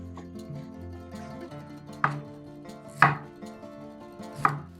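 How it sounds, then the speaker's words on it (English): Chinese kale being cut with a knife on a board, soft slicing sounds followed by three sharp knocks of the blade at spaced intervals, close and quiet with no talk. "Cut out kale's branches."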